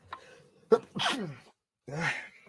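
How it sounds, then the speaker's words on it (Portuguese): A single close sneeze breaks out after a quick inhaled gasp, followed by a brief pause and a breathy exhale. "Vou espirrar."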